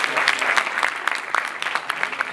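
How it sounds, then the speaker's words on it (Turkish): An audience at a Turkish student award ceremony applauds a named winner, a steady dense patter of many hands clapping at close range, with a few louder individual claps standing out. "Alkışlayalım"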